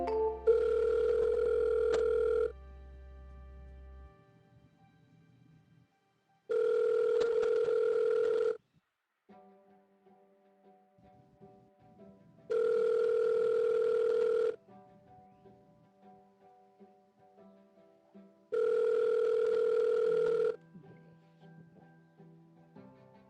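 An outgoing phone call rings on the line, four evenly spaced long ringback tones with quiet pauses between them, clear and alone.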